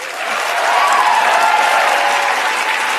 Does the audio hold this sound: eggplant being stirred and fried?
no